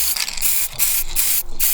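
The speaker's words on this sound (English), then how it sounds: "it's time to get some airbrushing in and spray down these fundamental colors" A paint airbrush sprays base colors onto a resin diorama in short hissing bursts, close and steady, with brief pauses between passes.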